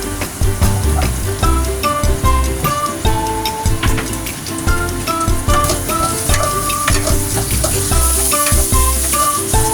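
Ginger, garlic and onions frying in a pan for Coca-Cola lemon chicken wings, a loud steady sizzle with stirring clatter throughout, no talking.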